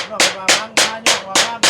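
Six loud, evenly spaced hammer strikes drive nails, each blow a sharp metallic crack with a short ringing tail, close by and with no talk over them.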